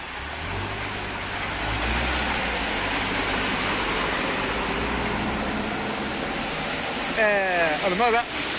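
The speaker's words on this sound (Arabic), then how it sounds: "الماء دخل الحوانت اليوم" Floodwater rushes steadily through a flooded street in Dakhla in a loud, continuous wash, with a vehicle engine rumbling and a voice calling out briefly near the end.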